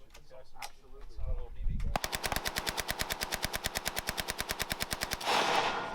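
A fully automatic rifle fires a fast, evenly spaced burst of roughly forty loud shots, preceded by brief mumbled speech and followed by a ringing tail.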